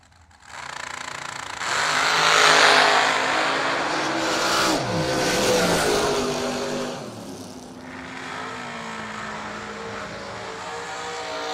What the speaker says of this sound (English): In the left lane, it says Gene Lampshire, but I know that's Randy Folks' dragster.